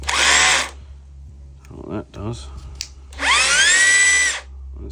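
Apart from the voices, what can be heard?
impact driver running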